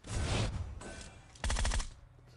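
Two bursts of rapid automatic gunfire in a battle-royale video game, the first lasting about three-quarters of a second, then a short pause before a second, sharper burst of distinct shots, loud and close with no talk.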